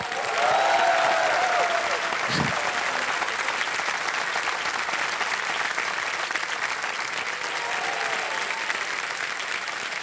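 A TV quiz show studio audience on Kaun Banega Crorepati applauds steadily throughout, a dense wash of clapping that holds without pause.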